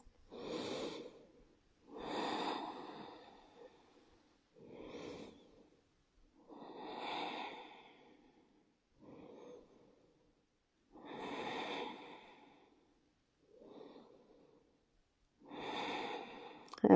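Slow, deep breaths are drawn in and let out during a yoga headstand in a power vinyasa class, as about eight soft, airy, evenly spaced breaths, close and quiet, with no talking.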